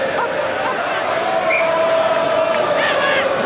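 A rugby stadium crowd of around 30,000 roaring steadily during the 1995 Rugby World Cup match between Scotland and Ivory Coast, a loud sustained cheer with faint whistles.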